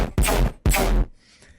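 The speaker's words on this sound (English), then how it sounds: "Alright, so our Tearout gun should sound like this." Dubstep tearout gun synth built in Serum 2 from a fart sample with extra distortion: two loud, harsh, gritty bursts in quick succession, then a faint tail, no voices.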